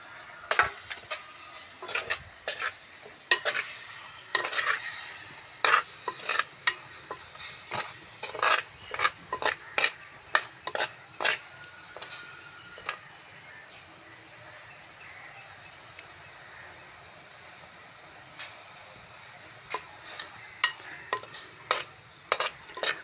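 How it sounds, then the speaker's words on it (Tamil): Cumin and mustard seeds sizzle in hot oil for a cuttlefish curry, a soft crackle under many sharp metallic clinks and scrapes of a spoon against the pan, quieter in the middle stretch. "சின்ன சீரகம், கடுகு இதை இந்த எண்ணெயில் போடுவோம்"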